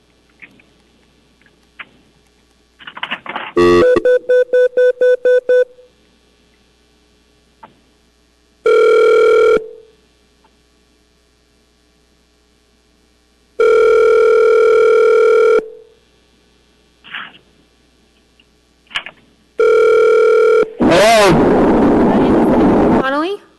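An electronic telephone ring sounds in several separate bursts, loud and close, with stretches of silence between them. A brief patter of taps comes before the rings, and a harsh, noisy tone closes the passage.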